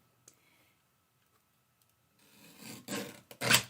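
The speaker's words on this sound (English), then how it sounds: "You like my little Stampin' Up guillotine cutter here, trimmer?" A Stampin' Up guillotine paper trimmer slices slivers off paper: quiet at first, then a few close rasping slides of the blade building to a sharper final cut.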